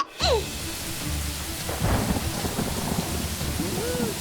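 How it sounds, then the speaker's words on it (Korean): A rumble of thunder rolls beneath steady, hissing rainfall that continues without a break. "왜 갑자기 비가 오는 거지?"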